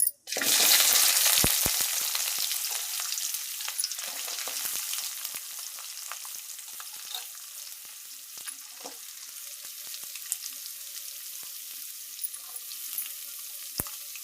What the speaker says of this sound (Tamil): இப்போ வந்து நம்ம வெங்காயம் போட்டுக்கலாம்